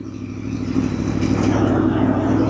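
Aprilia Tuono V4 Factory motorcycle engine recorded from a helmet chin curtain while riding: a loud, close, continuous engine drone that builds slightly in intensity, with no talking.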